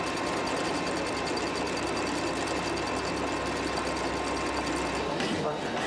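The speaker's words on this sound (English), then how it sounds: "That's fly cutting on a milling machine." A milling machine fly cuts a flat surface on a cylinder block, making a fast, even mechanical clatter that runs continuously and stops just before the end.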